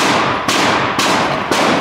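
An AR rifle fired with iron sights at a shooting range: three sharp, loud, close shots about half a second apart, each with a short ringing decay.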